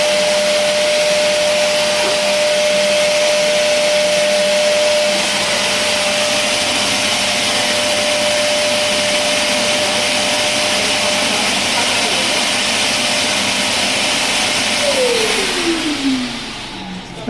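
A central vacuum system runs loud and steady for the whole stretch, a broad close-up whooshing roar with a sustained whine that slides downward near the end as the suction changes.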